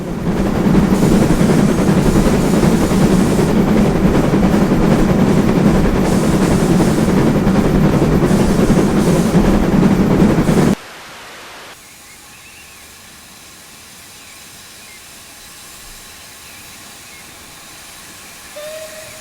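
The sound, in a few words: LNER J72 steam locomotive exhaust chuffs, video game Train Simulator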